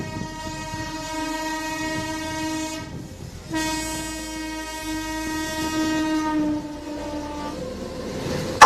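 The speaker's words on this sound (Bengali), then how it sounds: "যখন প্ল্যাটফর্ম কাঁপিয়ে ট্রেন প্রবেশ করে, তখন সেই ট্রেনের গতি আর হুইসেলের আওয়াজটাই যেন আমাদের আসল আনন্দ দেয়।" A train horn sounds in two long, loud blasts with a short gap between them as the train pulls into Abada station on the Howrah–Kharagpur line, with low rolling rail rumble running underneath.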